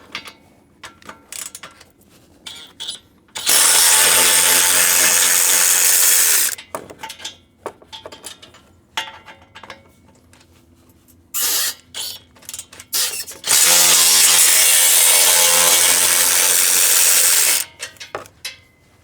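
Power tool or ratchet removing car bumper bolts, two long loud bursts of whirring mechanical drive around steady lower ratcheting and clicking, close up with no talk.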